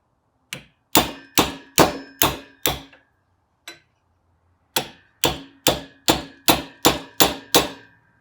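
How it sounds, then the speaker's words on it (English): A 17 mm socket is struck to drive a bearing into a Yamaha YFZ450 swingarm, giving loud, ringing metallic clangs in two quick, evenly spaced runs of six and seven blows, separated by one lighter tap. "we'll give it a couple of bashes."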